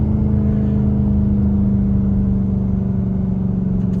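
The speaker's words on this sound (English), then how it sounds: "Downshift." A straight piped Chrysler 300 engine hums on a downshift, with a loud, steady, droning exhaust tone held throughout and little change in pitch.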